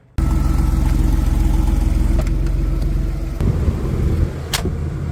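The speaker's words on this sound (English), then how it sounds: "I'm pulling the car in." A car engine idles steadily as it rolls into a rented storage garage unit. The low, even drone is loud and close from start to finish, with no voices.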